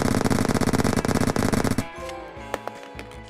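Rapid automatic gunfire from a weapon being emptied in the video game Tony & Clyde, a dense, loud burst of shots lasting nearly two seconds before cutting off, followed by a few scattered clicks and faint clatters.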